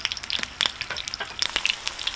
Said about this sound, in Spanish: voy a agregar mis chiles para que se vayan a freír y suelten un sabor delicioso